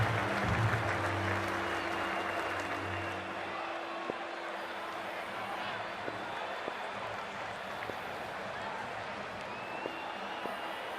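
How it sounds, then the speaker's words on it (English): Crowd noise at a cricket ODI between Sri Lanka and England in a video game, a steady wash of cheering and applause under commentary, with a low hum fading out early. "The crowd, it's pumped up for this match as well"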